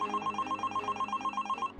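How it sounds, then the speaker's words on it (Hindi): A telephone rings inside a home, a rapid electronic trill pulsing at an even rhythm for almost two seconds before cutting off, clear and close with no voices. "तभी एक दिन उनके घर पे एक फोन आता है।"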